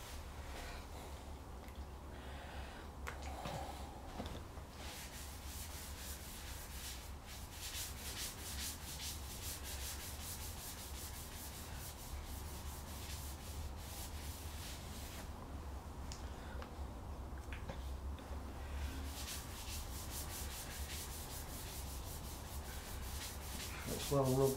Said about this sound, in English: So on there, give it a good rub in.